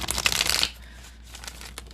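Tarot cards shuffled by hand in a quick riffling burst lasting under a second, followed by quiet room tone and a faint tap.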